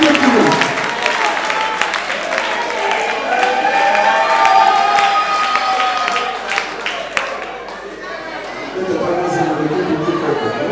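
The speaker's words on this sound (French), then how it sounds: "Applaudissons pour Corinne Zéro." A crowd at the Tokanisa festival applauds and cheers loudly for a diploma recipient, clapping dense and sustained with shouts mixed in, dipping briefly before swelling again.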